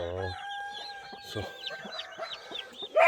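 Lavender Araucana chicks and chickens give faint, scattered peeps and soft clucks in a brooder after hatching, with a low grunt at the start and a sharper chirp closing the clip.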